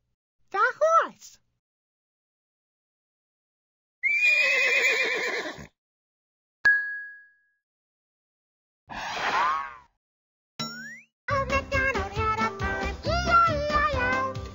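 In a Sesame Street game, several separate horse neighs and whinnies ring out in bursts with silent gaps, ending in a longer, richer whinny; no talking.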